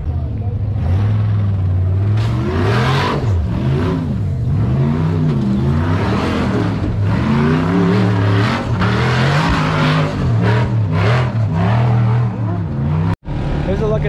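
Off-road trucks stuck on a dusty hill at a large off-road race event, engines revving loudly and continuously with rising and falling pitch, close by, with a voice speaking over the noise for much of the time.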